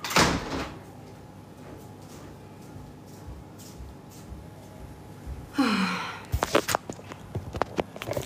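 A door is shut at home, giving a sliding scrape followed by a cluster of sharp knocks and clatters, close and fairly quiet, after a softer thump at the start.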